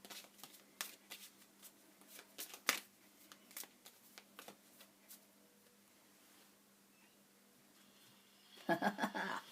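Tarot cards being handled and drawn, with a string of soft, quiet card flicks and slaps spread across the clip and a brisk, louder burst of shuffling at the very end.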